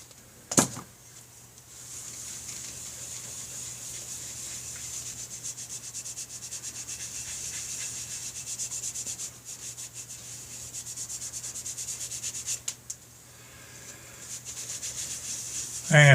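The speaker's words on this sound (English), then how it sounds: "Now I'm going to get what's left of my 3M polish. Give it a quick hit." Steady hand rubbing with 3M polish on a sanded motorcycle oil tank top cover, a soft continuous swishing stroke after a brief knock at the start, fairly quiet and close.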